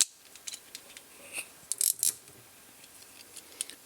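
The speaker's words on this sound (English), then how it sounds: "I can get rid of this clamp" Metal clamp released and lifted off a Cubusynth 4VCLFO eurorack synth kit during assembly, giving a few small clicks and a cluster of sharp ratcheting snaps near the middle, close and fairly quiet with no voices.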